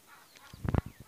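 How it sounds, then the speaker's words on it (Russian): Farmyard fowl, chickens and roosters in a winter poultry yard at a village homestead, let out a short cluster of clucks and honking calls at middling distance, with no speech. "Петушки, цыплята."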